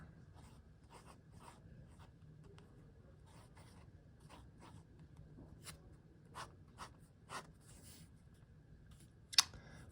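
A Montblanc Bohème fountain pen drawing a hydrangea on paper, its nib scratching in soft, intermittent strokes and short taps, close and quiet, with a few sharper clicks near the end and no talking.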